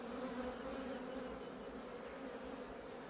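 A steady, close drone of many fairly defensive honeybees buzzing continuously at a hive, with no speech.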